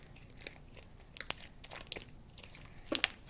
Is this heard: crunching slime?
yes